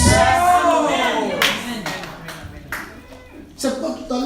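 A church congregation claps and cheers in praise, with scattered hand claps and raised voices mixed together.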